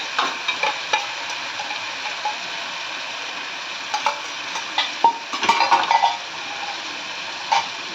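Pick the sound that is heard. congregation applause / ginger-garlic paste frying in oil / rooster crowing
ginger-garlic paste frying in oil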